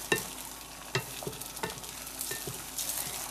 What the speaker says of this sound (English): I'm going to do scrambled eggs rather than going for omelet style this morning.